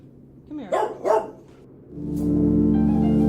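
Two sharp, close dog barks in quick succession come from the video game Blackwell, followed by a steady droning hum of background ambience.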